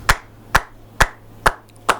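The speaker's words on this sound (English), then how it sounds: "fuck is he clapping for?" A single person claps five times at a slow, even pace, each sharp clap crisp and close, with silence between them.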